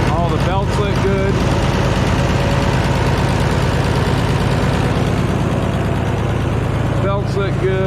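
Minneapolis Moline A4T tractor engine idling steadily up close, a loud continuous low rumble throughout with a person talking over it.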